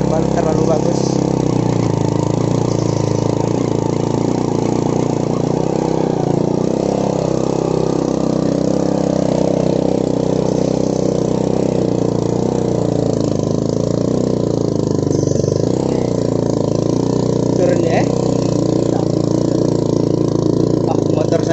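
A modified motorcycle engine labors up a steep gravel incline, a loud continuous drone with slight shifts in pitch, up close, with someone talking over it throughout.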